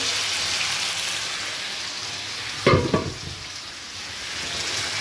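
Fried chicken sautés in a pan under a constant close sizzle, with a brief burst of scraping and clatter from a utensil stirring midway before the frying hiss settles again.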